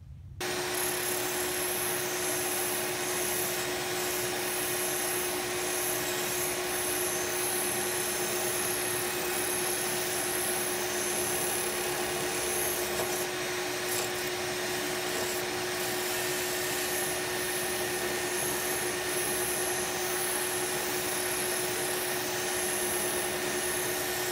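A mini table saw runs at its slowest speed setting, a steady, loud continuous whine and hum with a sharp tonal line, unbroken for the whole stretch with no talking.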